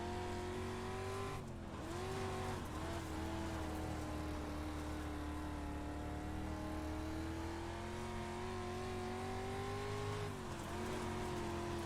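A dirt race car on the Cedar Lake track in iRacing, its engine holding a loud continuous drone with slight pitch dips as the throttle lifts and reapplies, ever-present and close, with no voices over it.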